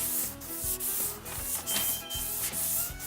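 Rhythmic block sanding of primer guide coat on a car body makes a steady back-and-forth scratchy rasp. The strokes are close and evenly paced, with no talking.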